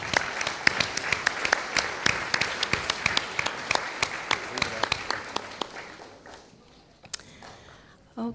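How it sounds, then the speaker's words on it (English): A live audience at a Sukkot school presentation claps in a dense, steady round of applause that carries for several seconds before thinning out and fading near the end. "So I want you to give yourselves a round of applause."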